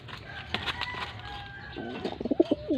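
A breeder pigeon coos in soft, low repeated pulses nearby, following a few brief flutters and clatters.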